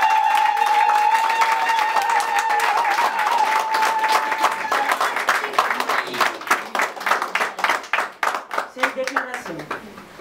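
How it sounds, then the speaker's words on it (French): Guests clap for the groom during a wedding ceremony in Switzerland, the applause swelling from scattered hands into dense, lively clapping over a sustained tone and voices in the first seconds. "Acclamons-le."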